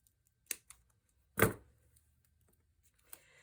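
A few sharp scissor snips trimming a paper sticker sheet for a handmade card: a light click, a louder crisp cut, then another faint snip, close and isolated in a quiet room.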